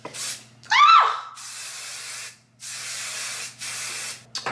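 Hairspray or styling product sprayed onto a reddish-brown glueless wig comes as several short, close hissing bursts from an aerosol can, with a brief gasp between them.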